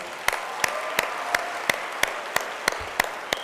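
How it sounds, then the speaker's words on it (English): A round of applause from the audience at the 2019 YSK awards ceremony: steady, evenly spaced claps over a broad wash of crowd noise, moderately loud, lasting a few seconds with no speech. "can you please give ourselves all a round of applause?"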